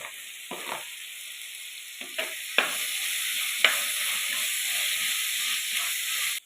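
Chopped tomato frying and being stirred into a sizzling crab curry base in a pan, a steady broadband sizzle with a few louder scraping stir strokes, close and alone with no talking.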